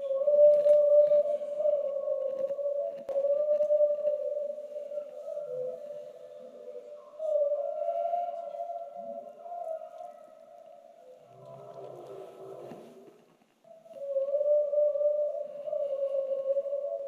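Whales recorded during their migration give long, sustained tonal moans, one after another, with brief pauses and a few lower rumbling calls in between, fairly loud and with no talking.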